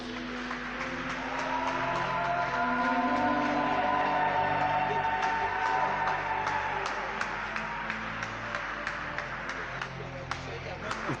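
A church congregation claps and cheers together in welcome of the Holy Spirit, sustained dense applause with crowd voices and shouts across the whole span, fairly loud and reverberant.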